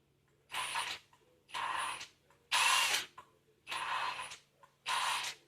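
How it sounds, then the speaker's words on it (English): A drill spins in reverse while lapping valves on a BMW N20 engine, running in five separate bursts of about a second each, with short quiet gaps between them, close up and at moderate level. "Now I'm going to just hit reverse on the drill."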